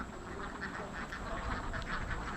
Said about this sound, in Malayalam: താറാവ്